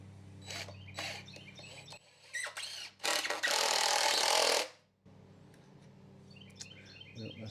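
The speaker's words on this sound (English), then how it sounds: "Turn the screws to the back so that they go into the wood the most." Screws are driven into wood with a power driver, short whirring bursts followed by a longer loud grinding run, with faint birdsong in the background.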